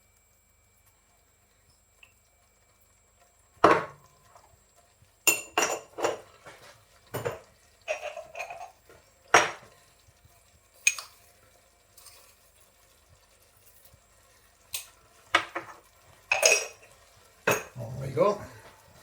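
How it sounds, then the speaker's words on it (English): Stirring chimichanga filling of leftover chicken seasoned with salt and pepper in a pan: sharp, intermittent clatters and scrapes of a utensil against the pan in uneven bursts, close up, with a brief spoken remark and quiet pauses between. "Give that a nice stir."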